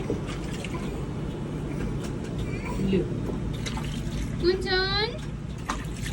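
Twin children splash and play in water, with soft, wet splashes, drips and sloshing up close. An adult's voice talks over the water almost throughout.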